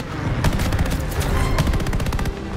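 Machine-gun fire from fighter planes over Midway in Call of Duty: Vanguard, fast rattling bursts from close by over a constant engine drone, with brief gaps between volleys.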